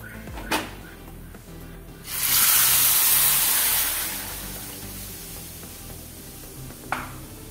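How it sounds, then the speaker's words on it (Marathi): Hot milk poured into a pan of roasted vermicelli gives a loud, sudden hissing sizzle that swells then fades over a few seconds, framed by a couple of sharp clanks of utensils before and after. "हे मी अर्धा लिटर दूध घेतलंय, पण दूध घालताना हे गरम गरमच घालायचं यामध्ये"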